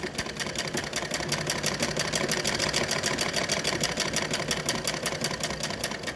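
A sewing machine runs steadily and close by, stitching a double sewn seam with a rapid, even mechanical chatter that continues without pause and without any voices.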